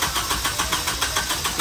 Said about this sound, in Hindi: दो या तीन बार स्टार्ट की लेकिन स्टार्ट नहीं हो रही है।